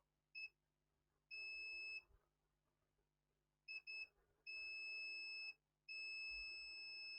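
A multimeter in continuity mode beeps as probes touch capacitors on a laptop motherboard, giving a series of shrill tones, some short blips and some held for about a second, separated by quiet gaps.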